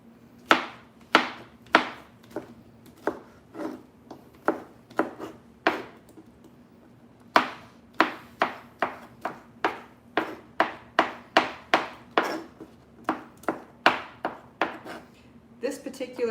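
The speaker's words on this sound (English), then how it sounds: "This particular tool cuts the pineapple nice and thin, so it makes the chopping go a little bit quicker too." A cutting tool chops pineapple on a board, giving about thirty crisp, sharp knocks in a fairly steady rhythm with one short pause midway. The chopping is close and clear.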